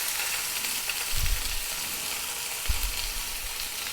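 Sliced onions fry in a pan for a mushroom roast, giving a soft, steady sizzle with two brief low bumps of the pan or spoon, and no talking.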